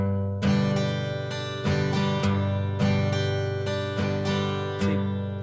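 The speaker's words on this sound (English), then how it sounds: "do both techniques where you're bouncing off the low root and arpeggiating with the strum" Acoustic guitar strummed with a bouncing low bass note between strokes and picked chord tones, a lively rhythmic pattern played alone.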